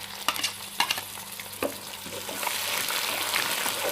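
Ginger, garlic and green chilli paste frying in a pan for a fish korma: a steady close sizzle with sharp scraping clicks from stirring early on, then a brighter, louder hiss. No talk.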